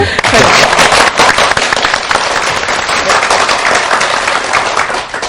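Studio audience at a Christian broadcast program bursting into loud, dense applause to welcome a pastor, sustained and close throughout.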